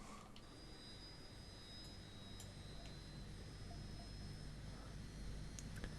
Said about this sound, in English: I'm just going to start the right hand engine first.